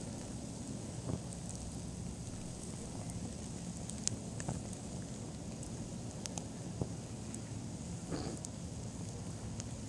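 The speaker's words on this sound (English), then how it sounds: "There's something so primordial about fire. Just watching fire." An outdoor fire burns a tree stump with a steady low roar and scattered soft crackles and pops, heard close and fairly constant, with faint wind noise and no talking.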